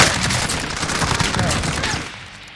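Sniper shots and bursts of gunfire in an online shooter video game, a loud, dense barrage of overlapping reports that tails off toward the end, with voices faintly underneath.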